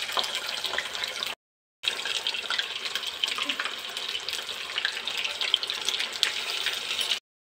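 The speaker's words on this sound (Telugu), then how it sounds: "ఆయిల్ హీట్ అయిన తర్వాత ఈ చేప ముక్కలు అనేది ఇందులో వేసుకోవాలి." Fish pieces frying in hot oil, a steady loud hiss and sizzle with a brief gap, continuing evenly and close.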